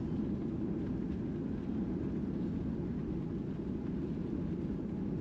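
A Caribbean Airlines airliner touches down on the runway at Miami International Airport, heard from a window seat in the cabin as a loud, steady low roar and rumble of the engines and the rolling wheels, with no talking.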